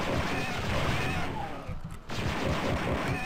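Stormtrooper rifle fire in Star Wars: Dark Forces, a dense stream of rapid blaster shots close and steady, with a short gap partway through before firing resumes.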